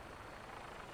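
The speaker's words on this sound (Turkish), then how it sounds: "Bu arada gökte gördüğünüz bütün helikopterler iyi helikopter değil." A mercenary helicopter flying overhead in Fallout 4, a faint, steady rotor drone with a broad, even hum and no voices over it.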